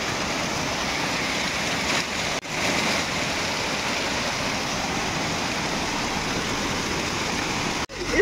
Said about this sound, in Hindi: ये देखो वाव बहुत ही प्यारा छोटा सा झरना है यहाँ पे